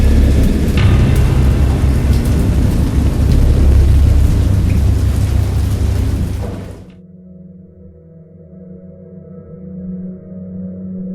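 Video game thunderstorm: heavy rain and deep rumbling thunder roar loudly together, then cut off abruptly to a quieter low hum with faint rain-like texture.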